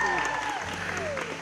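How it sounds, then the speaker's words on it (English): Applause from an award gala audience honoring a teacher, a steady dense wash of clapping lasting just over a second, with a voice running over it. "Round of applause"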